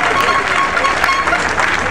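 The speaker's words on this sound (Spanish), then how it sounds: "recibimos con ofrenda de aplauso al pastor José Rojas" Steady applause and crowd noise welcoming a pastor at a Bible march in Chincha, Peru, dense clapping sustained with a voice speaking over it.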